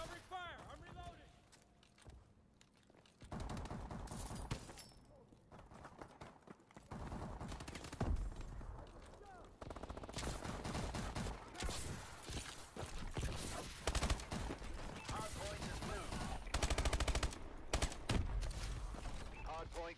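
Gunfire in the video game Call of Duty Advanced Warfare: dense bursts of automatic fire and single shots in a multiplayer hardpoint match, loud and continuous with brief lulls, while voices and game announcements talk over it.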